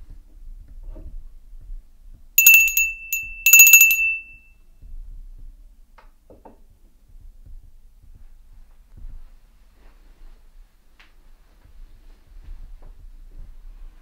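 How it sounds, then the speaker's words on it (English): A small handbell is rung twice in quick bursts during a daylight poltergeist investigation in a quiet house, bright and close, with near silence and faint room noises on either side. "If I ring this bell, could you ring it back to us?"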